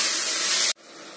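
Tomatoes tossed onto sizzling onions in a pan for a bitter gourd gravy, a loud close hissing rush that cuts off sharply, leaving a quieter steady sizzle.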